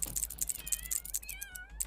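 A house cat gives a couple of short, rising meows close by, mixed with light metallic jingling like a collar tag or keys, over a quiet room.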